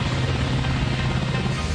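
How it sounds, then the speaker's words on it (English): An autonomous Black Hawk military helicopter flies close by, its rotor producing a loud, steady thudding drone with no break throughout. "seeing a military-grade helicopter flying without a pilot"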